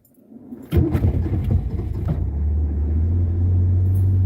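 A car sits with its keys in it and starts up: a short burst of jangling clatter is followed by a steady, close engine rumble that holds and grows slightly louder. The engine has a flooding problem that has just been fixed and still runs a little rough.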